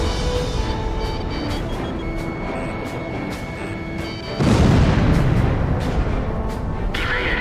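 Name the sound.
missile launch and explosions in video game Ace Combat Zero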